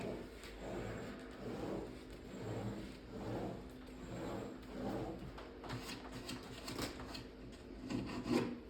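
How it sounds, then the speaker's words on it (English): Sanding the edge of a wooden arcade cabinet being restored and laminated: soft, rhythmic rubbing strokes near the mic, about a dozen back-and-forth passes of moderate loudness, with no talk. "Sand that a little bit more right there."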